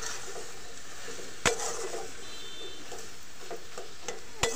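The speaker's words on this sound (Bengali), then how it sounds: "এখন আমরা চুলিতে একটু ঘেঁটে দেবো।" Greens stirred in a pan on the stove after their water has cooked off, a low dry sizzle under a few sharp metallic scrapes and clinks of the utensil against the pan, no talk.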